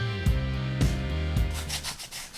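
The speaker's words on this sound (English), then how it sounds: "So I've got my multi-grit sanding block here." Rough rubbing strokes of a multi-grit sanding block on a scale model plane wing, a few rhythmic back-and-forth passes, close and fairly loud.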